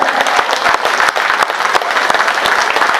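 Dense, loud applause from a crowd greeting a chief minister arriving at a BJP rally for a municipal ward election in Delhi, steady and continuous throughout with no pause.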